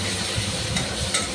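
Ground spice paste with turmeric and chilli stir-fried in hot oil, a steady close sizzle with a couple of light spoon scrapes, no voices.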